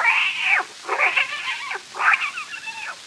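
A cat meows three times in a row, drawn-out and fairly close, with short pauses between calls and no other sound.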